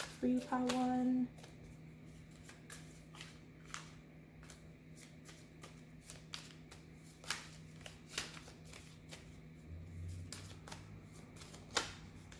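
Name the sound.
shuffling tarot cards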